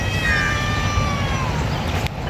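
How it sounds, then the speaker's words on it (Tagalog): Cats at an animal shelter meow over a dense, noisy background, thin high overlapping calls drifting in and out at moderate distance. "nang dahil lang sa mga pusa ano ang dami nila dito oh"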